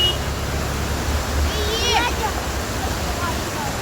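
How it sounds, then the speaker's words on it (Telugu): Floodwater rushing and churning against walls near a bridge during a flood, a steady loud roar of broadband water noise throughout, with children faintly audible playing nearby. "గోడలకి తగిలి వస్తున్నాయి నీళ్ళు అయితే."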